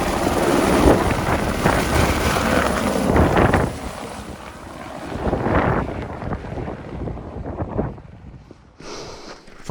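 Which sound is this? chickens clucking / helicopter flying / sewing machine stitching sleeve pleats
helicopter flying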